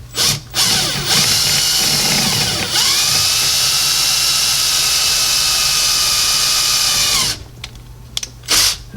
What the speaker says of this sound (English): drilling out the little cup on the top of the rivet, and it'll pop right out of the back side